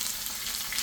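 Steak searing in a hot pan, a steady dense hiss and crackle of fat, close and fairly loud throughout a brief stretch with no voices.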